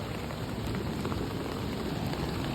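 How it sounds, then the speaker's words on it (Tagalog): Rain falls in a steady, dense hiss, close and unbroken, with no voices over it. "Usog man ang ulan"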